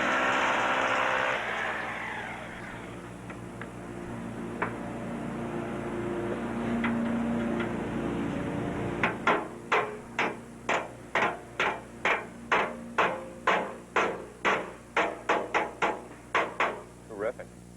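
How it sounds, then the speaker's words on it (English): Building an entrance into a basement: a drill whines through concrete for several seconds, then a hammer strikes an anchor into the pilot hole in a rapid run of about fifteen sharp, loud, evenly spaced blows. "he's going to drill a pilot hole, and then he's going to use this hammer-driven anchor, and he'll slide that into the pilot hole and hit it with a hammer"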